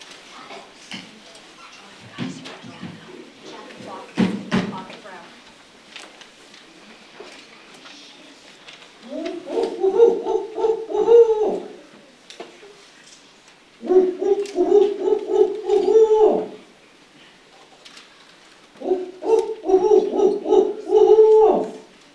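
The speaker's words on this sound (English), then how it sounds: "In silence, we welcome the barred owl." Barred owl hooting at an evening Boy Scouts crossing-over ceremony comes in three separate bouts of rhythmic, fairly loud hoots, with quiet stretches and faint background sounds between them.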